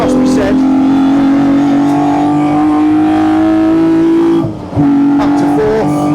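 1972 BMW CSL race car on track, its engine loud and close as it revs and accelerates, with a brief dip for a gear change before pulling hard again, someone talking over the engine noise.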